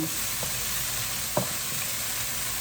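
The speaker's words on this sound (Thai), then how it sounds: "ใส่เบคอนที่ หั่นสำเร็จแล้วเทลงไปก่อนนะคะผัดให้มัน สุกก่อนให้มันเหลืองๆก่อน" Pre-cut bacon frying in a pan for a home-cooked dish, a steady close sizzle with a few faint stirring clicks and scrapes throughout, no voices.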